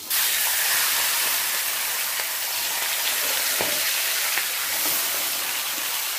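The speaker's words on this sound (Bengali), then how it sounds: "এবার বাকি মাছগুলোকেও ভেজে নেব।" Fish pieces frying in a pan give off a loud, continuous close sizzle and hiss throughout, with a few faint pops and no talking.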